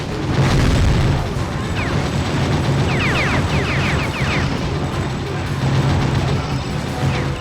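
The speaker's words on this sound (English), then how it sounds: "Every single shot you fire is loud as hell. The explosions are loud, the enemies are dying loud." Loud, constant gunfire and booming explosions from the Gungrave video game fill the whole stretch, a dense chaotic barrage of shots, blasts and crashing impacts with no break.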